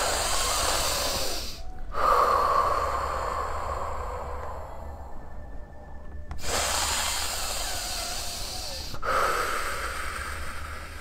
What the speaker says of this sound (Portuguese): nós vamos fazer esse exercício da respiração muitas vezes